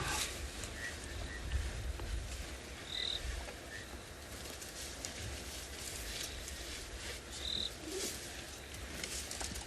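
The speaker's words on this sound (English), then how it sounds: "Actually heard a bushveld rain frog just now" A bushveld rain frog calls in the South African bush in the afternoon, short soft chirps standing out now and then against a faint, hissy outdoor background with distant bird sounds.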